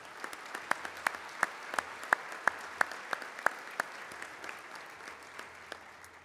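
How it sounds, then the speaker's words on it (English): Light applause at a State of the City luncheon honoring sponsors, with distinct individual claps standing out over a soft wash of clapping, moderately distant and thinning toward the end. "Would you join me again in a round of applause for thanking each one of them?"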